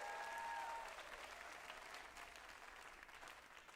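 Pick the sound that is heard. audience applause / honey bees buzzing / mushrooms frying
audience applause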